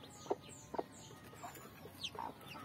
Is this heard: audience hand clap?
no